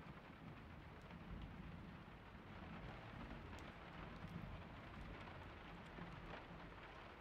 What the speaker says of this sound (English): I'm wasting my whole day in here in the rain.